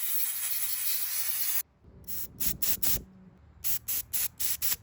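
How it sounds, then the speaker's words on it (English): Compressed air blasts across the carburetor of a Husqvarna 455 Rancher chainsaw: one long steady hiss, a pause, then a series of short sharp bursts, several in quick succession, all close and loud with no talking. "Let's get it dried off with some compressed air here."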